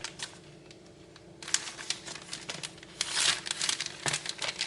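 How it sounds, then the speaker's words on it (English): A plastic freezer bag is handled and pulled open, giving close, sharp crinkling and rustling bursts that grow busier toward the end, with no talking. "I'm going to be using my freezer plastic bag and you open it."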